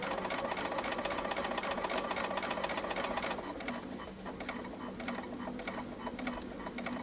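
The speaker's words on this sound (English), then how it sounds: "I'm sewing up to the mark that I have, going to pivot, gonna follow the line that I have on here." A sewing machine runs steadily as it stitches fabric up to a corner mark, a dense rapid mechanical whirr with close ticking that eases slightly partway through, with no voices.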